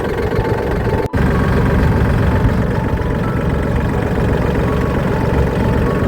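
A tractor engine runs steadily in a sugarcane field during ploughing, a loud, continuous low drone with one brief dropout early on.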